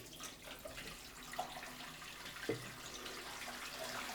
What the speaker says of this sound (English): So I filled the breeding tank up to about halfway with some new water